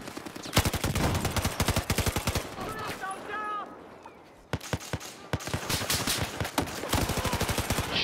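MG4 machine gun firing in Battlefield 4 produces rapid, loud bursts of closely spaced shots. A brief lull with a voice comes midway, then sustained automatic fire resumes to the end.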